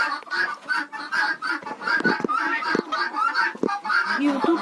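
Laying hens cluck and call steadily at close range near new nesting boxes in a henhouse, their overlapping clucks and squawks continuing throughout with a few louder thumps.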